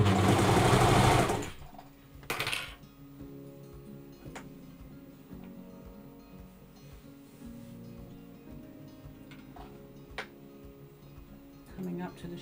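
A Brother 1034D serger stitching a garment from a sewing pattern runs with a soft, steady mechanical whir and faint ticking after a loud opening burst, with scattered small clicks and a person talking over it.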